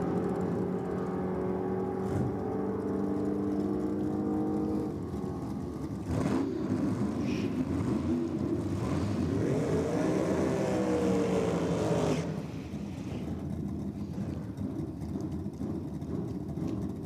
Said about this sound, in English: Tassone in the Ford Capri has launched through the start line there.